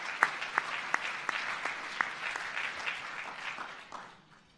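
An audience claps at the National Academy of Inventors Fellows induction ceremony, a steady wash of applause from a crowd with a few sharp, close hand claps standing out. It is moderately loud throughout, then fades out quickly near the end.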